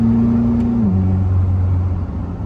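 Heard from inside a Koenigsegg Jesko Absolute as it accelerates to overtake, the engine hums loudly, then its pitch drops in one quick shift and it keeps pulling at the lower tone.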